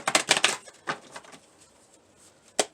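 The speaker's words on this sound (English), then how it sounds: "Let me shuffle it once here." A deck of tarot cards shuffled by hand during a reading, a quick burst of riffling flutters followed by a couple of softer taps and one final sharp snap, close and fairly quiet with no talking.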